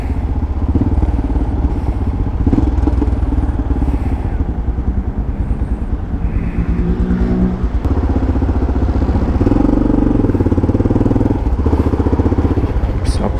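A Yamaha XT600 motorcycle with a Coyote exhaust rides along the Radial Leste avenue, its loud single-cylinder engine thumping and rising and falling in revs continuously, with road noise and clatter around it.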